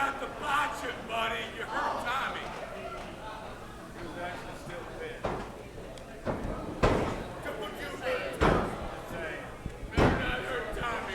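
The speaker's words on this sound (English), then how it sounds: "That was a beautiful suplex with the hammerlock, trapping Tommy's arm behind him" A wrestler is slammed to the mat by a hammerlock suplex in an independent wrestling ring, with loud thuds and impacts breaking through over continuous commentary and crowd noise.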